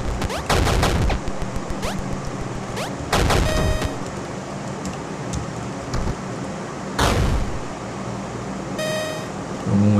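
Gunfire in the video game The Stupids: sharp bursts of shots and blasts recur every few seconds over a constant rushing background, loud and close with ringing tones after some bursts.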